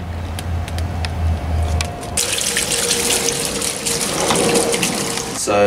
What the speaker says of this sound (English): So there you see it, it's flushing. I'm flushing the downpipe